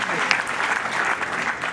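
Loud clapping from an audience at a Hindi comedy poetry recital, a brief, dense burst of applause with crowd voices mixed in.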